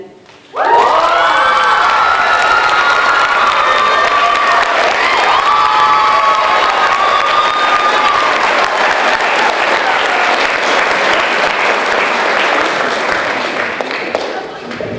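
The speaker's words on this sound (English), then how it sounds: "Let's give her another round of applause." A high school poetry slam audience bursts into loud applause and cheering after a poem, with whoops and shouted voices over dense clapping that holds steady for the whole stretch.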